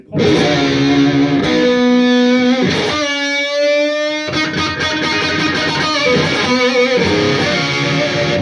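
Distorted electric guitar chords and sustained notes ring out with a touch of reverb, played loud and up close in short phrases.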